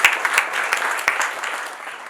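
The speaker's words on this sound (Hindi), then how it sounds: "जोरदार ताली उनके लिए।" Loud applause from an audience at a Kangen water product demonstration, dense steady clapping with sharp individual claps standing out, sustained throughout.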